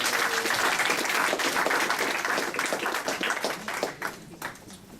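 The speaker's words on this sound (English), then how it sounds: "round of applause, please" Audience at an agile software conference clapping in a full round of applause that swells early and then tapers off toward the end.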